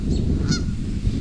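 Geese honking nearby, a couple of short nasal honks over a low background rumble.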